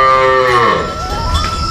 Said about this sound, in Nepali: उता साइडमा फेरि कस्तो खाले गाई राखेको